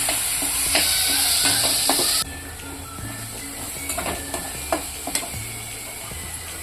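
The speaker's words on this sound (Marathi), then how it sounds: "आता हा मसाला चांगला भाजून घ्यायचा" Spice masala roasting in a pan for a fenugreek-leaf dish, with a soft frying sizzle under intermittent spoon scrapes and taps, plus a louder hiss at the start that cuts off abruptly.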